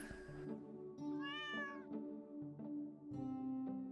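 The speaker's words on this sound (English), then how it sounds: "Something is meowing in the water." A cat meows repeatedly from the water in the Stardew Valley Expanded video game, the clear rising and falling calls coming at a steady pace over a soft background hum.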